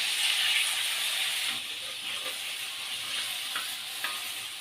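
Chicken fries in a kadai with a steady bright sizzle and hiss, turned now and then with soft scraping clinks, heard close and alone.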